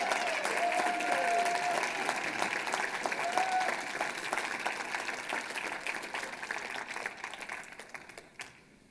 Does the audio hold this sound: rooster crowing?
no